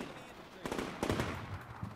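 Machine gun fire in the wartime strategy game Combat Mission: a short, faint burst of rapid rattling shots over a murky background, with a voice speaking over it.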